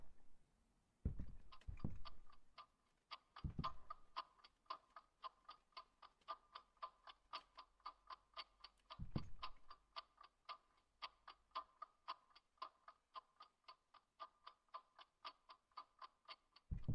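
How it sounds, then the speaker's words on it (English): A massive clock ticks steadily in the creepy mansion of the game Within Skerry, an even run of sharp ticks that goes on and on, with a few dull low thumps early on. "And a massive clock."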